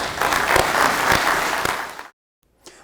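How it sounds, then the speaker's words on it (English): A crowd applauds an Oklahoma National Guard task force at a public event, loud sustained clapping for about two seconds that cuts off abruptly, followed by a brief faint sound. "Let's have a round of applause for the task force."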